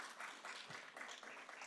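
Audience applause at a congressional hearing, a faint, steady patter of many hands clapping, distant and continuous for a brief moment with no voices.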